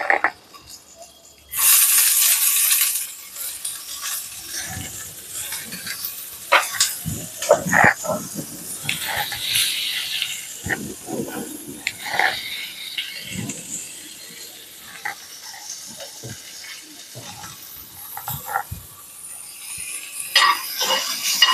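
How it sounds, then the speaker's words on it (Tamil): Onions sautéed in butter in a pan while making palak paneer: a sudden loud sizzle with steady hiss, broken by clinks and scraping from stirring, close by. "வெங்காயத்தை போட்டு இந்த பட்டரில் கொஞ்சம் வதக்கிக்கலாம்."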